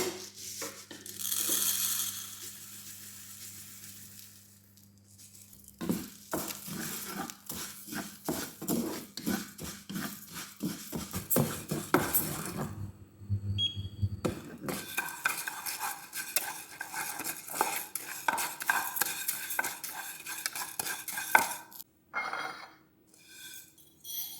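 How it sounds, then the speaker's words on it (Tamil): Urad dal being dry-roasted and stirred in a pan for Jaffna-style aadi kool, with steady scraping and rattling of the lentils against the metal and occasional utensil clinks, fairly close and continuous with a brief lull near the start. "இது வந்து உளுந்து உளுந்து வறுக்க போகிறேன்"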